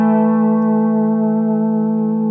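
A single sustained pedal steel guitar note, played with the bar, glides with smooth, gentle vibrato, clean and steady without string noise.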